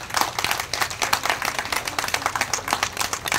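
A community gathering applauds its volunteers with brisk, steady clapping from many hands. The applause is loud and fairly close and stays dense throughout, with no speech over it.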